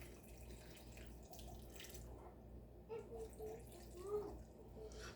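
Water poured down the side of a pot of cabbage, a soft steady trickle and splash, faint and close, running continuously with slight swells.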